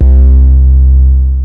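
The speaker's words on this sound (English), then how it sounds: "That layering instrument that I wanted to come in underneath that sounds like this." A loud, deep sustained synthesizer bass note, a layering sound for an 808 bass, rich in harmonics, holds steady and slowly fades.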